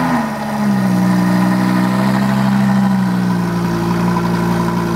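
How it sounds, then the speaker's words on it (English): A Lamborghini Huracan LP610-4 on a cold start roars up with a loud engine surge, then holds a high, steady fast idle, close and without talk. "Let's get a cold start of the..."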